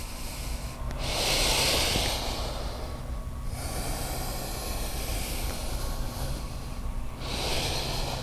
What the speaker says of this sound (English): Take 3 complete breaths, adjusting on the inhale and lengthening and strengthening on the exhale